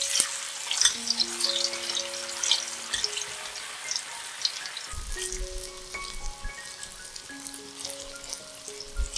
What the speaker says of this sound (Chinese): 现在倒入适量的油，待油热后放入豆腐，炸至金黄色后